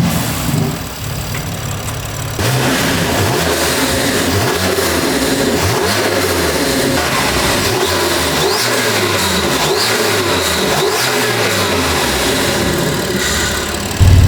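A tuned BMW 340i with its B58 engine, hybrid turbos, aftermarket charge pipes and intakes revs hard and loud, climbing and falling in repeated sweeps after a brief idle at the start.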